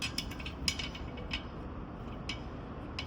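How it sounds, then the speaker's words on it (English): Metal bolts being hand-threaded onto a beadlock wheel in a star pattern, giving faint scattered metallic clicks and light clinks over a steady low background hum, with no talking. "you're gonna want to put your new bolts on in a star pattern, just like this"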